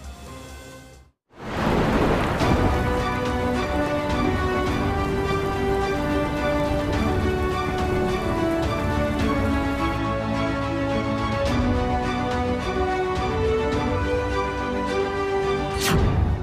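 Heavy monsoon rain in Rajkot district, Gujarat, pours steadily as a dense, constant roar after a brief silent gap at the start, loud and unbroken throughout.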